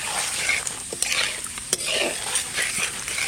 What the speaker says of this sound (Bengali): তা ফোড়না দিচ্ছি জিরে তেজপাতা